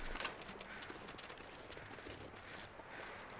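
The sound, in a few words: footsteps in a survival video game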